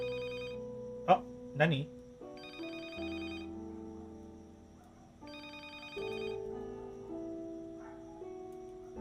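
A telephone ringing inside the horror game Paper Ghost Stories: Third Eye Open, a repeating electronic ring that comes and goes in bursts, with a brief spoken exclamation early on.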